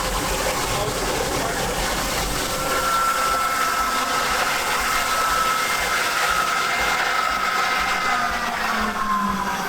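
Fire pump pushing water through hand lines, a loud steady rushing hiss with a faint engine drone beneath, continuous throughout.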